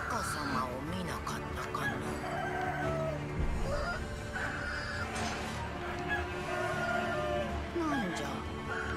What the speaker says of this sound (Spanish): Es el gallo eso.